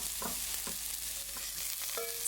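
Onions fry in a few tablespoons of ghee in a big wok, giving a constant loud sizzle with a few clanks and scrapes from stirring; no voices.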